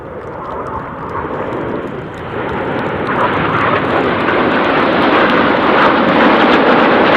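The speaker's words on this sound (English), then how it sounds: "Red 1 about to bank the aircraft to the left, changing smoke colour as they go in the Tornado." Red Arrows jets fly in display formation through the Tornado manoeuvre, a loud, steady broadband jet roar that swells gradually and holds near and heavy throughout, with no talking.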